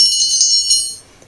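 A small bell decorated with a chicken design and fitted into an egg cup rings as it is picked up, a bright, close metallic ring that sustains for about a second before fading out.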